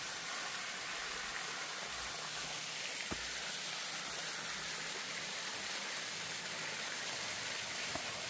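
Steady, broadband rushing water from an artificial waterfall over stacked stones fills the whole stretch, a constant hiss like falling water over rocks, with no voices and only a couple of faint knocks.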